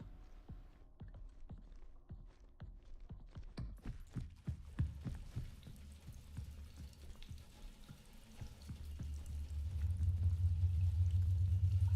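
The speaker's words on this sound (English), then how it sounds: "It's the sound of magnets." In a video game, magnets hum and clank as a string of sharp metallic ticks and thuds quickens in rhythm, then settles into a loud, steady low drone that swells toward the end, with no one speaking over it.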